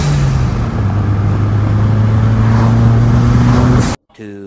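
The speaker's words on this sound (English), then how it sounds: "So right now I'm test driving the car." A car on a test drive after new brakes were installed hums steadily with a low, rising engine drone and road noise for about four seconds before cutting off abruptly.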